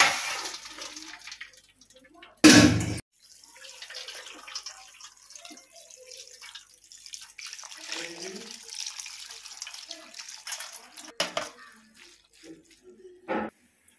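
Tap water runs over boiled chow mein noodles as they are rinsed in a sink: a steady hissing stream with a few louder splashes and gurgles, and a voice talks faintly in the background.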